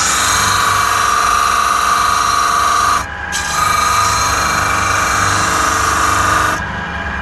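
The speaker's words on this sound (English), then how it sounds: "Over to the disc sander, I should say. Right, we'll turn that on" An electric disc sander grinds balsa wood, a steady loud whirring hum with a brief dip partway through before it resumes evenly, with no speech.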